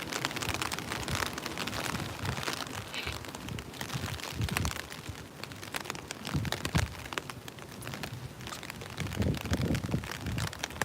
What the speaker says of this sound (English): Even with the rain coming and the pitter patter, I don't mind it too much.